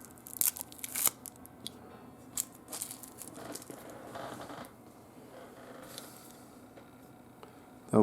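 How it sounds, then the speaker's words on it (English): Plastic wrapping torn and crinkled off a Porsche model kit, soft scattered rustles and crisp snaps up close, faint overall with a few sharper bursts. "Get this plastic off of here."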